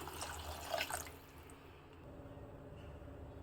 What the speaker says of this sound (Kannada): ಈಗ ಇದಕ್ಕೆ ನೀರನ್ನು ಹಾಕ್ತಾ ಇದ್ದೀನಿ ನಾನು